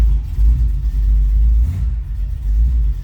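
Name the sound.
classic car V8 engine starting and running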